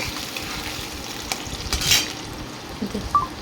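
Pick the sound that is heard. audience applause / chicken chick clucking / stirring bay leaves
stirring bay leaves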